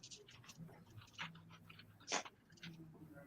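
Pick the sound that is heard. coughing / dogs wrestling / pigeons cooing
dogs wrestling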